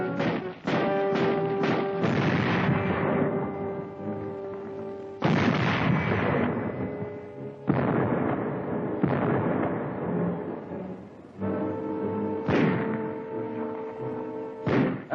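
Wartime artillery bombardment of Gdynia harbor in September 1939, heard as a dense, roaring barrage of heavy booms in several sustained waves with short gaps, loud and close, with no talk over it.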